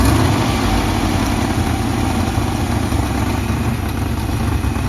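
An International LoadStar grain truck engine idles steadily and loudly up close, a dense continuous low rumble with a slightly uneven, rough-running character and no talk over it.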